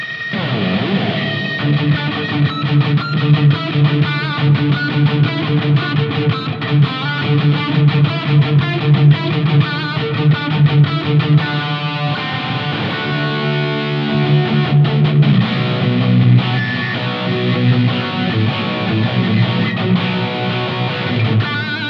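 Electric guitar through a Yamaha THR10X amp playing chords and melodic lines with a shimmering chorus effect and a light hall reverb tail, loud and up front, no voices.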